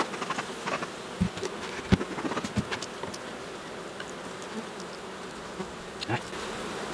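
Honeybees buzz in a soft, continuous drone around hive frames with comb built onto them, with a few faint clicks and knocks from handling the frames.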